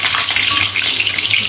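Garlic and chili sizzle and crackle loudly in oil in a pan, a dense, steady frying hiss up close with no talking.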